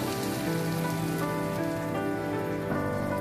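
Water is poured into a pan of potatoes and spices that have been sautéing, producing a close, continuous splashing hiss that runs steadily from start to finish.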